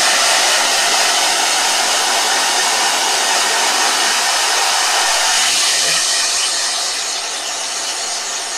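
A hair blow dryer runs steadily and loudly up close for the whole stretch, a broad constant whoosh that eases slightly in level toward the end, with no talking over it.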